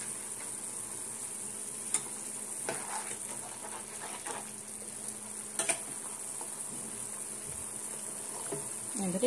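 Semolina for upma is stirred in a pan over low heat: a constant soft sizzle with occasional faint scrapes and taps of the spoon against the pan, moderately close.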